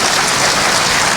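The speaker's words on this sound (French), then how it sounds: "Je vous prie d'applaudir M. Ousmane Issoufi Maïga" A ceremony audience in Mali applauds a commission president, a dense, steady, loud burst of many hands clapping that fills the short moment without talk.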